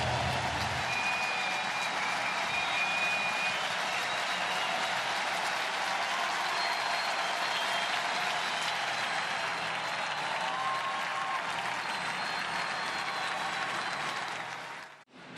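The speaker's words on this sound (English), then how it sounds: "He will leave with a 9-3 lead and a standing ovation." A baseball stadium crowd gives a standing ovation at a Dodgers vs Cardinals game, with dense, steady applause and cheering that holds for about fifteen seconds before cutting off sharply.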